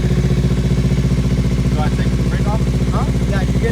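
Motorcycle engine running loud and close in first gear as the rider pulls off slowly, a steady throbbing rumble with faint chirps over it.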